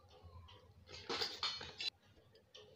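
Carom seeds (ajwain) being crushed and dropped into a bowl of flour, a few quiet clinks and scrapes against the bowl in short bursts, close by.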